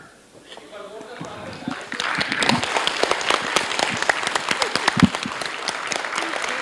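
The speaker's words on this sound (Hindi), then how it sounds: "बहुत ही अच्छा, बहुत ही खूबसूरत नाटक, इनके लिए जोरदार तालियां" An audience claps for a stage play at a theatre workshop's culmination day, the applause building from a soft start into loud, sustained clapping with some voices mixed in.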